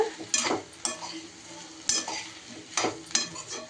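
Onions and a little tamarind fry in oil for an onion chutney, a constant low sizzle broken by about five sharp, rhythmic scraping stir strokes of a spoon against the pan, close by.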